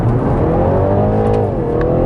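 A BMW G20 330e accelerates hard with traction control fully off, its engine note rising in a loud, continuous, close-up climb with no pauses.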